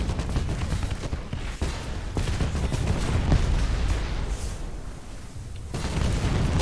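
Naval gunfire in a warship battle video game, with a steady wash of booming salvos and rumbling explosions, loud and continuous across the whole stretch, with no speech over it.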